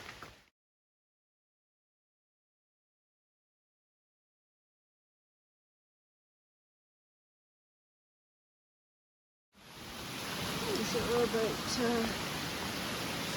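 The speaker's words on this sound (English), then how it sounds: "I think the rain is slowly tapering off." Rain falls on the Appalachian Trail during a southbound thru-hike. After a near-silent stretch, a steady broadband hiss of rain comes in loud and continuous, with someone speaking briefly under it.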